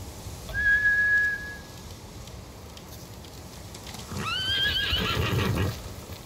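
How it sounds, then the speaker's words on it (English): Samurai horses neigh in a short whinny near the start, then a second burst of whinnying and clip-clopping hooves as they gallop away, over a low ambient rumble in Ghost of Tsushima. "Bastards scared off the horses."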